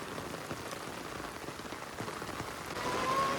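Heavy monsoon rain pours steadily over farm fields, a dense patter on surfaces that swells slightly louder toward the end, with no voices.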